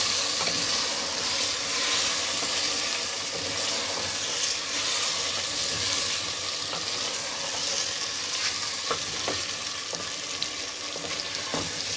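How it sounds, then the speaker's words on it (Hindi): Bottle gourd and mutton for lauki gosht sauté in a pan with a steady, dense sizzle, hissing continuously at an even loudness throughout, with no voices over it. "अब हम इनको अच्छे तरीके से भूनेंगे।"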